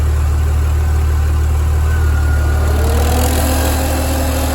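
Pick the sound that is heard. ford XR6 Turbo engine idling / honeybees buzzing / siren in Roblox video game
ford XR6 Turbo engine idling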